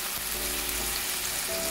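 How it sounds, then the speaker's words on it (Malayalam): Onions sautéing in a pan with salt give a close, steady sizzle and crackle, with soft stirring and no voices. "അപ്പം ഇനി നമ്മൾ ഇതൊന്ന് വഴറ്റി എടുക്കണം ആദ്യം"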